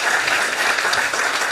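Dense, even applause from a ceremony audience at an anniversary celebration of the Polish Falcons in America: a full crowd clapping steadily at constant volume with no speech on top.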